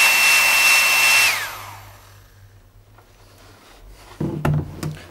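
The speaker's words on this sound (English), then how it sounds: "we're going to take a basic hair dryer, and we're just going to dry that up a little bit" A loud hair dryer drying a Panama hat whirs steadily, then switches off and winds down, followed by quiet and a few knocks and clatters of handling.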